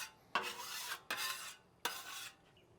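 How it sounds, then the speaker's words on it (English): A bench scraper scraping bacon grease across a hot griddle in three long, rasping strokes, close and clear with no talk. "I'm going to use my bench scraper to remove some of that bacon grease"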